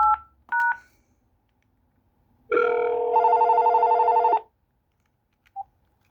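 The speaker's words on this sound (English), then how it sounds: "Now we're gonna go ahead and call back the testing phone because we forgot to do that." An AT&T TL76108 cordless phone rings once with a sustained electronic warble lasting nearly two seconds, preceded by a few short keypad beeps and followed by a brief faint chirp, in an otherwise quiet room.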